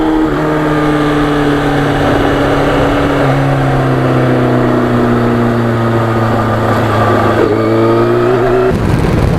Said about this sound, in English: we still had the relatively loud Norton muffler on the bike